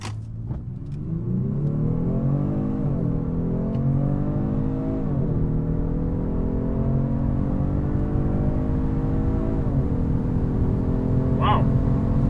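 A 2022 Genesis G70 3.3T and an Infiniti Q50 Red Sport launch hard side by side at a drag strip, engines roaring steadily and climbing in pitch through several upshifts, loud and close, with faint voices underneath.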